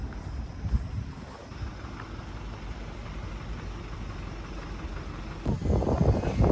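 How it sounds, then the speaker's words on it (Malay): Strong wind blows outdoors on a university campus, buffeting the microphone with a constant low rumble that swells louder near the end. "Angin kuat gila."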